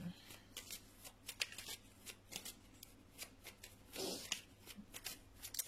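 Tarot cards shuffled for a reading, a close series of quick papery riffles and soft slaps in an irregular rhythm, quiet and alone.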